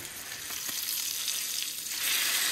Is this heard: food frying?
yes